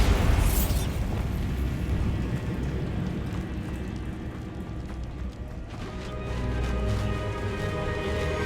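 A Bombarda blasting spell in Hogwarts Legacy goes off as a loud booming explosion up front, followed by a sustained rumbling roar with scattered debris-like crackle that lingers without fading.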